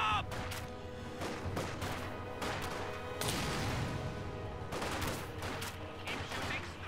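Gunfire crackles in a World War II battle in Company of Heroes 2, bursts of rifle and machine-gun shots with sharp impacts and crashes, dense and continuous, with faint voices underneath.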